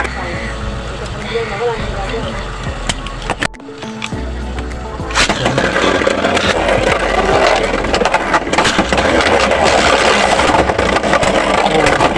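Beyblade Burst tops spinning and clashing in a test battle: a steady whirring scrape that drops out briefly, then returns louder and rougher with dense clattering grind, close and continuous, with a voice speaking at times.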